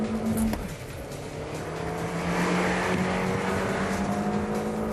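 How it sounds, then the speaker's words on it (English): A stock factory Audi A4 Quattro accelerates hard from 0 to 60 with traction control on, its engine droning loud and near and rising steadily in pitch after an early gear change, with no talking. "We're going to set some baseline 0 to 60 times."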